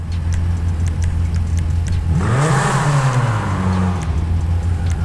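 A car engine in GTA Online revs up once during exhaust tuning, a loud rising then falling roar swelling mid-clip over a steady idling rumble, with no talking.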